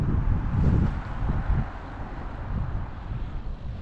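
Wind blowing outdoors on a cold day, a continuous low buffeting roar that swells and eases against the microphone, with no voices.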